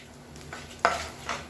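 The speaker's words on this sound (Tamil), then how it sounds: "கடுகு உளுந்து பொரிய ஆரம்பிக்கவும் கருவேப்பிலை சேர்த்துக்கலாம்." Mustard seeds and urad dal crackling in hot oil for a Tamil chutney tempering, with soft sizzling and a few sharp pops, one louder burst near the middle and another shortly after, close and fairly quiet.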